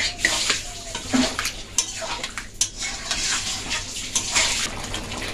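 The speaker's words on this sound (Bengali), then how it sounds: "এবার দইটা দিয়ে ভালোভাবে এটা কষিয়ে যেতে হবে। যতক্ষণ না তেলটা উপরে ভেসে আসছে ততক্ষণ এটা কষাতে হবে।" Chicken cooking with yogurt in a pan is stirred and sautéed, with a spoon scraping and clinking against the pan in uneven bursts over a soft background hiss, with no talking.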